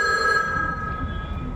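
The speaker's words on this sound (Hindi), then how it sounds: "जोसेफ स्टालिन को फोन लगाइए" A telephone bell rings in a steady, clear electronic tone that carries through the whole short stretch, fairly loud and with no voices over it.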